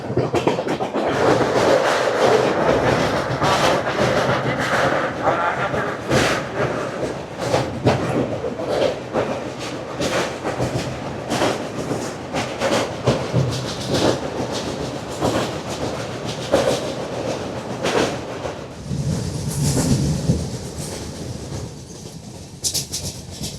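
Padatik Express night train from Sealdah toward Darjeeling rolling along the rails, a steady loud rumble with rhythmic clickety-clack of wheels over joints, heard close from inside the carriage with no talk.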